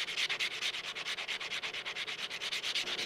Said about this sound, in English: Now I'll use the diamond pad grinders.